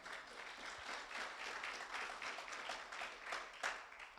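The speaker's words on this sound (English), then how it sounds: "Yeah, you can clap for that." Church audience applauding during a Christmas-season service: a steady, dense wash of many hands clapping, moderately distant and fairly soft, continuing evenly for several seconds.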